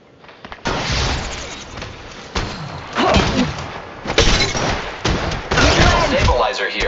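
Apex Legends gunfire played on an iPhone XR: loud, dense bursts of rapid shots and heavy thuds in repeated volleys, with game voice callouts mixed in.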